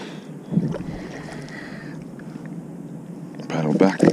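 Kayak paddling on open water while fishing for bream, with soft wind noise and gentle water swishes, a brief splash near the start and a louder burst of sloshing at the end; a voice is also heard.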